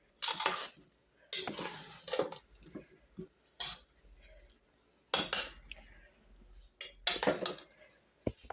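Cauliflower and other vegetables for lasagna stirred in a pan, heard as bursts of metal utensil scraping and clattering against the pan separated by quiet pauses.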